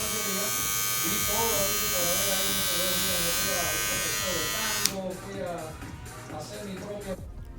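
A Kemei KM-1102 electric shaver from a barber kit buzzes steadily with a high, close whine for about five seconds, then cuts off abruptly, leaving someone talking alone.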